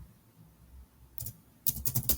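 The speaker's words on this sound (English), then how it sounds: "let's say I'm typing" Keys on a computer keyboard clack at a command prompt: quiet at first, then a brief burst of taps, followed by a denser run of quick, close keystrokes.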